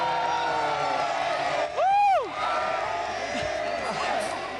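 Crowd at an esports event, the Manila Major Dota 2 main event, cheering and whooping loudly in a continuous roar, with a rising and falling whistle or horn cutting through the middle.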